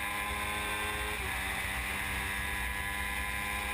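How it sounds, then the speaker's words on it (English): Formula 1000 racing powerboats with 1000cc Suzuki engines run at full throttle, a loud, sustained high-pitched engine whine with a steady drone and wind rush, unbroken for the whole stretch. "22 seconds they are on full throttle on these 1000cc Suzuki motors."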